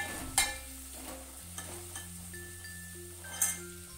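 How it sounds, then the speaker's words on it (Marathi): Matki (moth beans) and spice mixture being sautéed in oil in a pan for a Maharashtrian curry, a faint steady sizzle with a few light clinks and scrapes of the spoon, without talk. "अशा पद्धतीने एकसारखे हे परतून घेणार आहे मी मिश्रण सर्व।"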